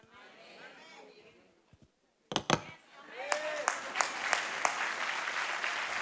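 A few sharp individual claps sound first, then scattered clapping from a small group continues with distinct loud slaps, while someone speaks in Spanish at a church anointing-with-oil service.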